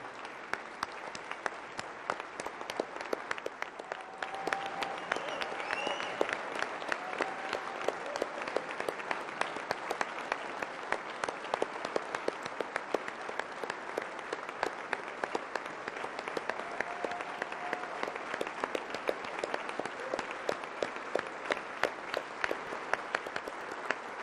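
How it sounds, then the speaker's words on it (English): An audience in a legislative chamber on opening day applauds honorees, steady sustained clapping from many hands lasting over twenty seconds, moderately distant and even in volume. "would you please applaud the honorees"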